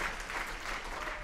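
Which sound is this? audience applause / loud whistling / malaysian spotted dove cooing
audience applause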